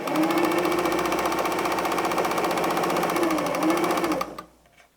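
A sewing machine runs steadily for about four seconds, stitching a light and a dark fabric piece together for nine-patch patchwork, with a close, even mechanical chatter that stops abruptly near the end.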